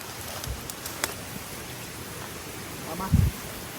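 Steady soft rain hisses in the background, with a few louder drops and thumps nearby.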